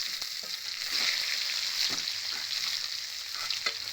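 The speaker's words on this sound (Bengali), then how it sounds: "পেঁয়াজগুলো ভালো করে কিন্তু লাল লাল করে ভেজে নেব" Chopped onions and two bay leaves frying in mustard oil, a soft, steady sizzle with occasional stirring, fairly quiet and without speech.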